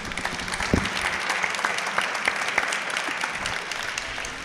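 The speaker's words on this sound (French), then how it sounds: "Bravo, merci Kevin, on peut t'applaudir." An audience claps steadily and fairly faintly in a hall after a business talk, a dense patter of many hands without cheering.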